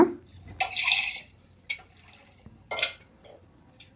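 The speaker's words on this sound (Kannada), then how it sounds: "ಸ್ವಲ್ಪ ನೀರು ಹಾಕೊಳ್ಳೋಣ." Water is poured into a pot of mashed dal and spinach in a short splashing burst, followed by a few scattered drips and light clinks, fairly close and with no talking.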